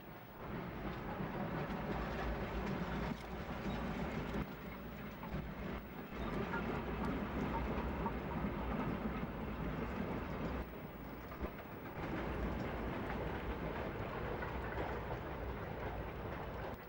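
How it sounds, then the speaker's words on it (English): A coal tank steam locomotive pulls away from Arley station with a local train, heard as a steady, muffled, fairly distant rumble that continues without a break and without voices. "The coal tank leaves Arley with a local train."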